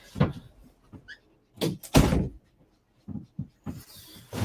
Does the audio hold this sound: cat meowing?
no